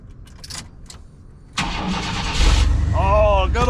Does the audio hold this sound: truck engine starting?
yes